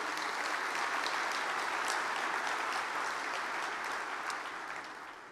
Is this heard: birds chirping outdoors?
no